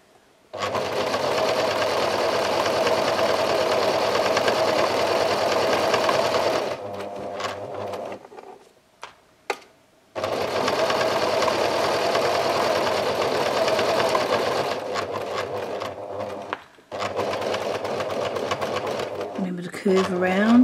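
A sewing machine stitches a half inch seam on a curved edge of a tea towel tote bag, running loud and steady in two long bursts separated by a brief pause and a few short stops.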